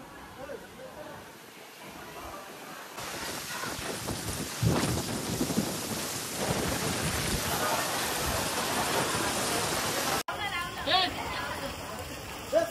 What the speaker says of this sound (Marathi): आता पाऊस आलाय